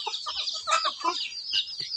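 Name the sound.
chickens clucking on a rural Thai farm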